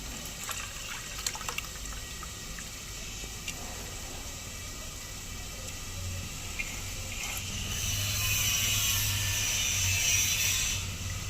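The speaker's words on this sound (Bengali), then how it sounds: "এবারে ছানাটা ছেঁকে নেব।" Liquid whey drains and trickles through a strainer as fresh chhena is separated for a Bengali home recipe, a steady watery splashing that grows louder and fuller toward the end, with no talking.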